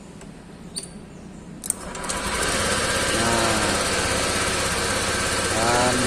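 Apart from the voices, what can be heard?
Honda Vario 150 scooter engine starting and idling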